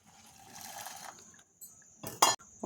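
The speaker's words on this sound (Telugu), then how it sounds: "బాయిల్ చేసుకున్న వాటర్ హాఫ్ లీటర్ వాటర్ దీంట్లో వేసేసుకుందామండి." Boiled water is poured into a bowl of blueberry jelly powder in a steady splashing stream, which pauses and then returns in louder gushes with a light clink of the vessel and no talking.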